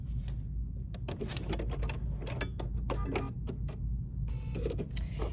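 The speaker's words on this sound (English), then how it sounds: "I'm using my start-stop button rather than my foot control to stitch my buttonhole" A Bernina B 790 PRO sewing machine stitches a buttonhole, started by its start-stop button, with a steady low mechanical whir under rapid ticking needle strokes and faint clicks, running continuously at close range.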